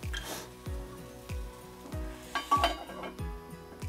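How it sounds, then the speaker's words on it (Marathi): Chopped onions for a Maharashtrian onion bhaji cook on a very low flame in a cast-iron kadai. A spatula scrapes and knocks against the ringing iron about once every half second over a soft sizzle. "ही लोखंडाची कढई आहे ना बिडाची, त्यामुळे हलवून हलवून हे करत राहायचं"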